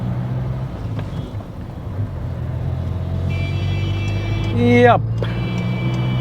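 Tuned Ford Aspire diesel with 160 HP and 350 Nm of torque accelerating on the road, a steady loud engine and road rumble from inside the cabin, with a brief gear-change sweep near the end and a voice speaking briefly.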